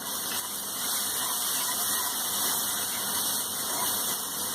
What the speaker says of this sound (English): We can add little water so that our tomatoes get properly cooked.